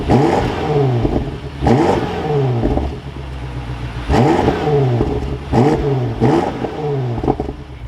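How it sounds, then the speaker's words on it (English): A 2023 BMW X6 M Competition fires up and is revved repeatedly, its engine rising and falling in several loud, close bursts with a throaty exhaust note between them. "But let's fire this X6 back up."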